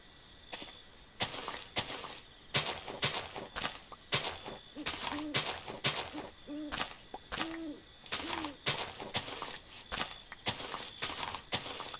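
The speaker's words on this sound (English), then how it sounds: "I'm hearing an owl," An owl hoots in the Minecraft Eternal modpack, its soft, repeated, rising-and-falling calls sounding mid-distance under steady, rhythmic in-game footsteps.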